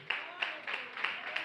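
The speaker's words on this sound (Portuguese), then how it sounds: "Uma salva de palmas" Brief applause in a church, a rhythmic burst of clapping with about five evenly spaced louder claps, moderately close.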